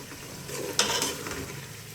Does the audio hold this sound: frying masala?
yes